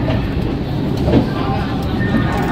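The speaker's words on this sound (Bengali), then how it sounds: "12:31 ট্রেন ছাড়লো হাওড়া স্টেশন থেকে" Train pulling out of Howrah station, heard from inside the carriage as a loud steady rumble with faint wheel clatter and no clear talk.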